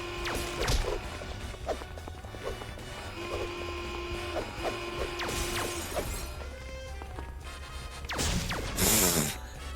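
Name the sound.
glass breaking in the Family Guy video game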